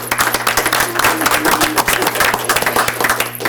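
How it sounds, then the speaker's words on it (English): Audience applause at a school district board meeting, loud, close, rapid clapping from a room of people, sustained throughout with a few scattered voices. "Let's give her a round of applause, everybody."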